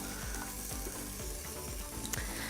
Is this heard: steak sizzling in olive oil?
yes